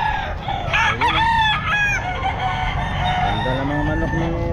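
Roosters, including white Kelso gamefowl, crow repeatedly at the Bocaue pet market, with several overlapping cock-a-doodle calls and clucks against a busy background murmur.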